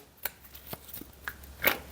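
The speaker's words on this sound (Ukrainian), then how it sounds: "Давайте я з Таро витягну чотири карти." Tarot cards are drawn from a deck in a few quick, soft slaps and flicks, scattered and close, with a sharper papery snap near the end and no talking.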